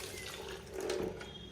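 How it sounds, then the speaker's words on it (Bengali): Running water splashing while pieces of catla fish are washed for cooking, a short steady rush of tap water with a brief louder gush, close by and without talk. "তো মাছগুলো সুন্দর করে ধুয়ে নিচ্ছি।"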